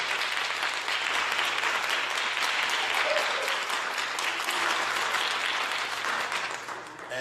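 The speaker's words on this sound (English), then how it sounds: "Come on, let's give him a round of applause." A church congregation gives an artist sustained, dense applause that fills the whole stretch loudly and tapers slightly at the end.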